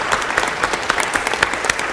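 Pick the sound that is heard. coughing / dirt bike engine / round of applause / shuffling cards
round of applause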